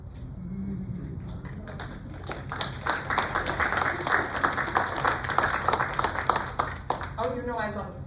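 An audience applauds at a live author event, a sustained burst of clapping that swells and thins out over several seconds, with a voice speaking over it near the end.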